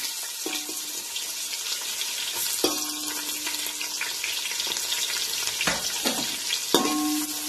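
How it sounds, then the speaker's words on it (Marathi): Onion fries in a pan with bay leaves, a steady close sizzle running throughout, broken by a few sharp clinks and scrapes of a utensil against the pan. "कांदा चांगला भाजायचा।"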